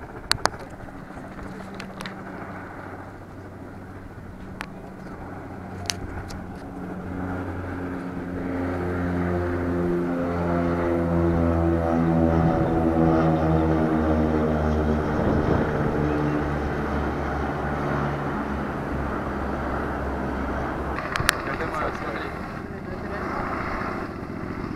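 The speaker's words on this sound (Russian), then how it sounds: "вертушки на бреющем" Military helicopters fly low over Sevastopol during the 2020 Russian Navy Day parade, their rotor and engine drone swelling as they approach, peaking overhead, then receding, with a few sharp clicks nearby.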